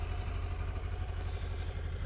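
A stock 1996 Yamaha YZF600 sport motorcycle with its original exhaust sits idling, giving a steady, even low rumble with light mechanical clatter, close by and unbroken, with no voices.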